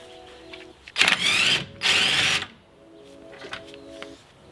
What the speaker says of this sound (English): now we're going to take my 17mm wrench and 17mm socket and remove this